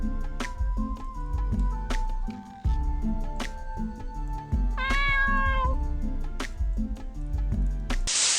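A cat meows clearly in Ethereal Sunder, a bright rising cry over a busy, rhythmic game music bed with plinking notes, followed by a short splashy burst at the end.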